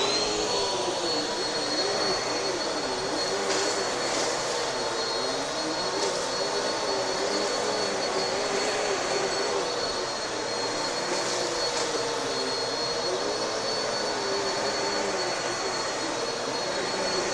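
A Bissell 2252 CleanView Swivel Pet vacuum cleaner runs over carpet with a continuous, fairly quiet motor drone and airy whoosh, a faint wavering hum rising and falling as it is pushed back and forth.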